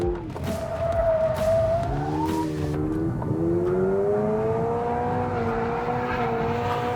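Hyundai i20N hot hatch pushed hard on a twisty road with traction control off, its engine note climbing and dropping through gear changes in a steady, close, loud run with no voices.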